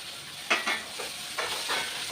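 Onions sauté in a pan with curry leaves and coriander, giving a soft steady sizzle and hiss, broken by a few brief scraping stirs, close by and without talk.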